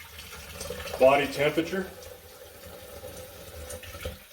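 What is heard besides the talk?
warm water running from a tap into a bottle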